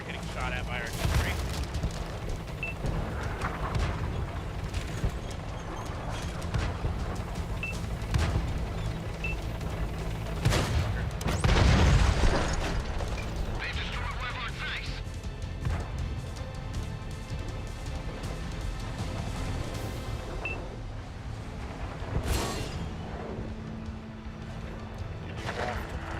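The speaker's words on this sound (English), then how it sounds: "we're going to start getting shot at by artillery" Artillery shells and gunfire in World of Tanks, a dense run of booms and shots with one heavier blast near the middle, played under continuous talk.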